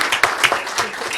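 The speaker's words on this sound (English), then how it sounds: "We'll give them one more round of applause" An audience at a Saddle Brook Township council meeting claps in a brief, dense burst of applause, close and fairly loud, with no talking.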